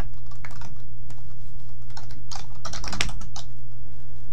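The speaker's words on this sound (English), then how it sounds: "So we'll type MinGW32-make." Fast typing on a computer keyboard while entering a build command, loud close-up key clacks in a steady stream with a few heavier strokes, no talking.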